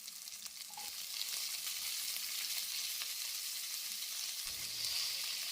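Onion, tomato and chopped carrot sizzle steadily in hot oil for a carrot chutney, a close, continuous frying hiss with no voices.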